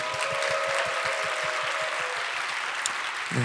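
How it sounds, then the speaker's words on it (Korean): A church youth service congregation applauds, broad steady clapping with a low rhythmic thumping beneath it, ending with a brief voice at the close. "우리 박수 한번 할까요?"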